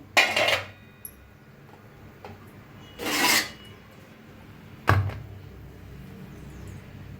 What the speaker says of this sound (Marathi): इडली काढून घेऊया आता एका चमच्यानं काढूया आपण